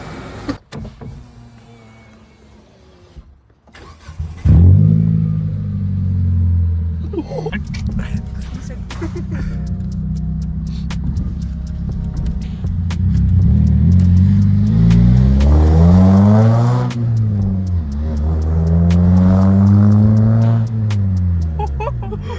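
A Mitsubishi Lancer engine with a new Cannon exhaust starts, then revs repeatedly with rising and falling growls, loud and close, throaty and rumbling, with voices talking over it.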